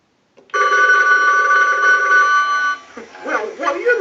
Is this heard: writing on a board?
no